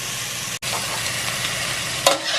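Onions sizzling in 1 to 2 tablespoons of oil in a pan over medium-low heat make a steady, close hiss, with a momentary dropout early and a brief scrape of stirring near the end.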